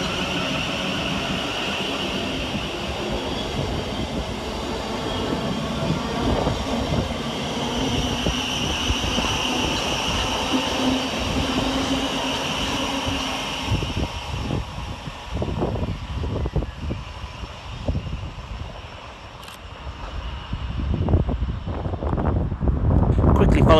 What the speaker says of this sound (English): we'll get started here at Three Bridges with 700 127, working the 1031 Govia Thameslink service from Brighton to Bedford